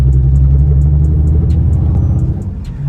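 A Nissan 350Z with no power steering rumbles along, its engine holding a steady, loud low drone with a faint ticking pattern, then easing off slightly near the end.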